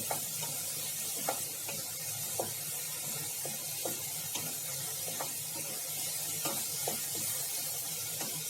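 Onions with a little salt sautéing in a pan, a steady soft sizzling hiss with regular light scraping strokes of stirring throughout, no voices.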